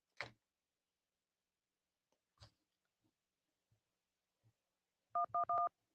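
A telephone keypad sounds a short burst of touch tones, several quick beeps near the end after a few soft clicks and near silence, pressed to accept an incoming call.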